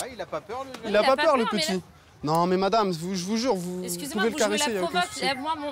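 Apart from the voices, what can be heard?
No everyday noises stand out.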